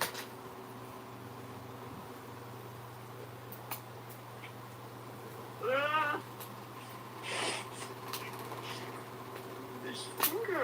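An indoor cat gives a few distinct meows, one drawn-out and rising, another shorter, near and clear over a quiet room hum, with faint talk and a low electrical buzz in the background.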